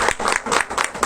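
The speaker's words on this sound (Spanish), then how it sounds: "Un fuerte aplauso, por favor." Brief burst of audience applause at an educational talk, a short run of dense clapping with uneven peaks, moderately loud and close, no voices over it.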